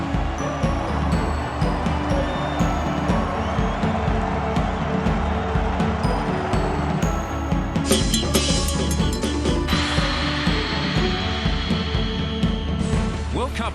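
A roaring crowd of about 60,000 fills a football stadium after a goal seals a 3-0 international win, a dense, continuous wash of cheering that surges louder in the later seconds.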